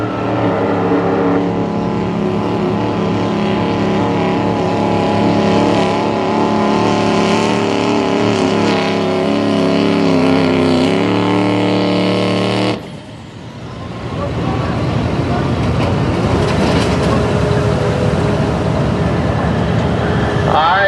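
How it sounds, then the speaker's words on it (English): Duramax diesel pulling truck engine revving and building up at a truck and tractor pull in Harrisonburg, Virginia, a loud, sustained roar that swells then drops sharply before surging again, with crowd and announcer noise under it. "We got the Duramax building up over here on this announcer side."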